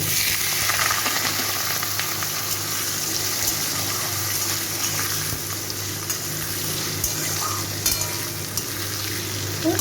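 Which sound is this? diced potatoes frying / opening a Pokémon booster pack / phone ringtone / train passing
diced potatoes frying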